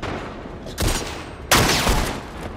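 Gunfire in The Last of Us Part 1 on PS5: two sharp, loud bursts of shots about 0.7 seconds apart, each with a short ringing tail over a steady low game background.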